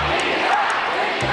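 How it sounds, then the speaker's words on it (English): A brief, loud roar from a large crowd at the India-Pakistan border ceremony, a dense wall of shouting and chanting voices stirred up by an MC. "You can hear the MC really getting the crowd going here right now,"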